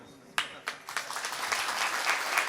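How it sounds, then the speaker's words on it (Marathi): An audience at a religious discourse breaks into applause. A few separate claps come first, then they swell into quiet, steady clapping from many hands at a distance. "आता एवढं टाळ्या वाजवल्यात तुम्ही"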